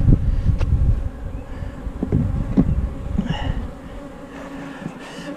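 Honey bees buzz densely in two-frame mating nucs, a steady close-up hum with occasional louder passes near the microphone and a light wind rush, no voices present.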